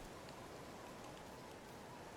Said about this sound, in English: as luck would have it, it is raining